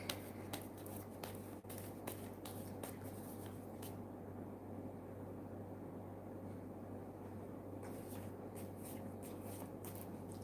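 Tarot cards shuffled by hand in a quiet room, a steady low rustle with clusters of crisp flicking snaps that come in bursts, pause, and return near the end, over a constant low hum.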